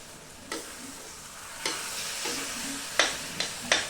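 A spoon stirs masale bhat, Maharashtrian spiced rice, in a pan with sharp scraping strokes at irregular intervals over a soft background sizzle, close and clear, with no voices.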